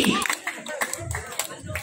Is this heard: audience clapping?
yes